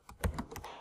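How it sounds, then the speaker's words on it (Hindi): A computer keyboard being used to type an email address, giving a short run of quick, close, crisp key clicks. "तो ईमेल एड्रेस टाइप करता हूं मैं अपना"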